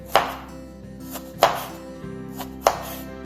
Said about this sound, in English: Now I'm going to cut the jalapeno.